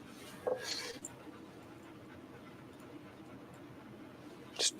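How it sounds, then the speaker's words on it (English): A dog pants quietly on a hot afternoon, a faint steady breathing rhythm heard alone with a couple of brief sharper noises near the start and end. "He's panting."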